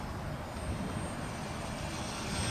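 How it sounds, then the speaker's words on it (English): A Flyzone Mini Switch RC airplane running on a 3-cell 1300 mAh battery flies overhead, its small electric motor giving a steady, faint whine through the whole stretch with no break. "Nice flying little airplane."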